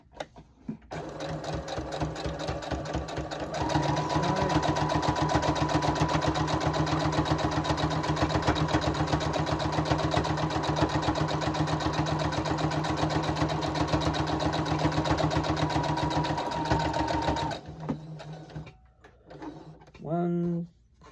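A sewing machine stitches steadily and loudly for about fifteen seconds with a fast, even mechanical rhythm, then stops, leaving short bursts and quieter handling sounds.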